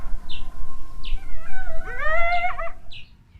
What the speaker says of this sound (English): Coyotes yipped.